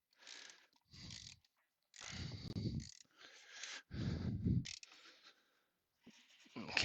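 A ratchet tightens 12 mm bolts on the M111 engine of a Mercedes C-Class W202 during a tune-up, giving several quiet, close bursts of clicking separated by short pauses.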